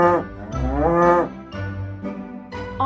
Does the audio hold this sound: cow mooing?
yes